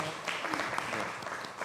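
A church congregation at a Sunday afternoon service claps in welcome, a steady wash of applause filling the room at moderate level, with faint voices mixed underneath.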